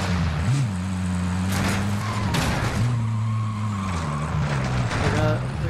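Several vehicle engines in Warzone drone and rev steadily, close and loud, with shifting pitch and a brief tire skid near the end while game noise runs underneath.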